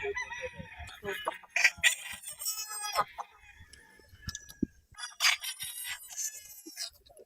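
Young white Sweater Boston stag roosters at a gamefarm sale crow and cluck in repeated loud, close bursts, with quieter clucks between and some voices in the background.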